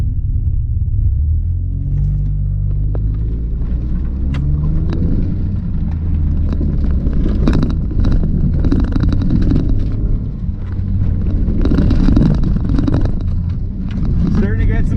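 A filthy Nissan Xterra tearing around a rutted rallycross dirt course, its engine rumbling loud and close with wind buffeting and rattles throughout.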